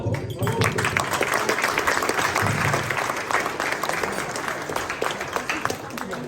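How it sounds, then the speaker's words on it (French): An audience applauds a third-place winner at a 2023–24 champions awards ceremony in Nice, with dense sustained clapping throughout while a voice talks over it. "On peut l'applaudir."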